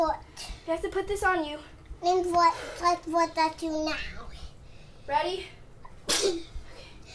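A child sneezes amid playful chatter at home, with a sharp sneeze burst standing out near the end between bursts of a child's and an adult's speech.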